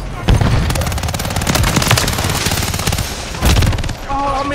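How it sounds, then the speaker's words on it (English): Rapid bursts of automatic gunfire from a WSP Swarm in a shooter video game, loud and continuous, with sharper single shots standing out. "I can hear the gunshots."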